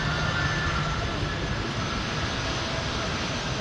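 A fully loaded KLM Boeing 787 Dreamliner bound for Amsterdam produces a loud, steady jet engine roar with a broad, even hiss.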